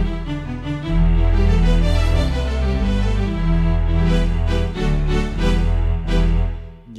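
Layered chords on a Yamaha PSR-340 electronic keyboard played in a steady progression, washed in a spacious chamber reverb tail that blurs the notes together.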